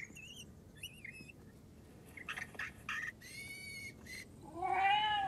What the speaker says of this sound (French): C'est une sorte de radar qui imite les cris des chats et projette du poison.